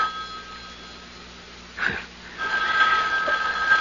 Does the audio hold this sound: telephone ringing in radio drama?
yes